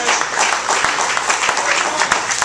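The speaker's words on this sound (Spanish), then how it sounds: "Denle un aplauso al Señor." Loud applause from a church congregation for the Lord, a close, dense burst of clapping with sharp individual claps standing out and faint crowd voices mixed in.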